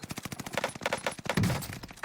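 Rapid bursts of gunfire from a firefight in the video game Warzone, a dense series of sharp, irregular shots filling the whole moment, fairly close and loud.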